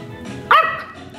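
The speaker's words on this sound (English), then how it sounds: "One bark is for Lil Big Man, and two barks is for Lil Mama" A single sharp dog bark, close and loud, rising briefly out of quiet room background.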